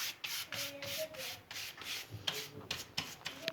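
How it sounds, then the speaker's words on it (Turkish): A brush spreads Amway oven gel in a thin coat over oven surfaces: close, rhythmic scrubbing strokes repeat steadily, with nobody speaking. "Kendi özel fırçasıyla her yerine gelecek şekilde ince bir tabaka halinde sürüyoruz."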